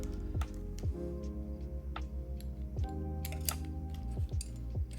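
Typing on a mechanical keyboard, an Aeroboard70 custom build with a slightly foamy sound, gives soft, muted clacks in an irregular rhythm, close and alone, with a few sharper key hits scattered through.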